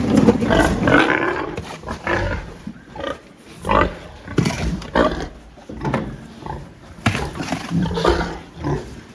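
Sows grunt and squeal loudly in bursts, several animals overlapping in a reverberant pig barn with concrete and plastic flooring, with no talking.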